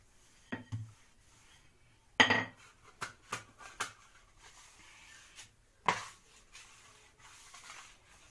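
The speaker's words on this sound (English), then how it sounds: "What I'm using is a spatula." Spatula scraping wholemeal biscuit dough around a bowl, a series of soft scrapes and light clinks of utensil on dish, irregular and close, at low volume with no voices.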